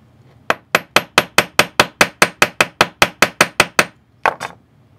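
About sixteen steady, evenly spaced hammer blows ring out on a metal chain link, bright and close, followed by a short pause and two final quicker strikes.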